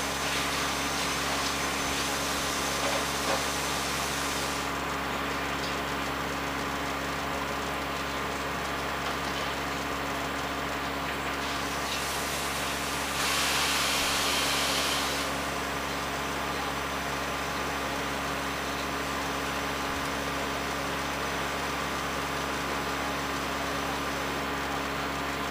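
A Noctua NF-F12 PWM cooling fan runs steadily under a full CPU load, a continuous broadband whoosh that swells slightly for a few seconds partway through as its speed rises, with no talking.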